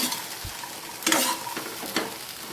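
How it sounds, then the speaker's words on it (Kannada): Cluster beans (chowlikai) frying in a pan with garlic, a soft steady sizzle broken by a few louder stirring scrapes and clatters, close by with no talking. "ಚೌಳೆಕಾಯಿ ಚೆನ್ನಾಗಿ ಫ್ರೈ ಮಾಡ್ಕೋಬೇಕು"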